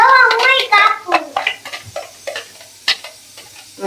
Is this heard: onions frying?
yes